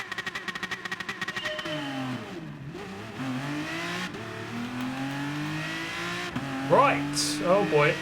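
Aston Martin DBR9 race car in Gran Turismo Sport, loud engine revving and rising through gears with rapid downshift pops early on, then sustained high-pitched acceleration and brief tire squeals near the end.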